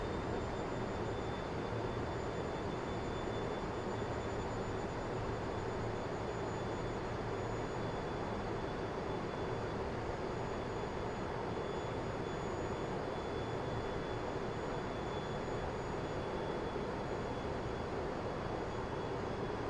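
The jet engines of a LearJet in Aerofly FS 4 drone steadily with the throttles pulled back, a continuous low roar with a faint high whine running underneath for the whole stretch, with no talking.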